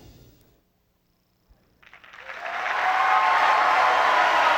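A pageant audience breaks into applause after a brief quiet, swelling within a couple of seconds into loud, dense, sustained clapping and cheering from a large crowd.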